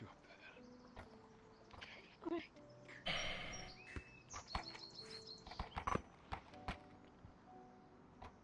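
Horses' hooves clip-clop unevenly along a path heading uphill toward a grove, scattered thuds and knocks of moderate loudness over faint outdoor ambience with crickets and birds, no voices over it.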